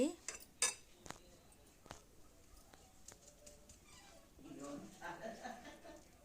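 Eggs, chillies and chopped ginger are whisked together in a bowl, with a few sharp clinks of a spoon against the rim followed by steady soft stirring and light tapping, close and fairly quiet.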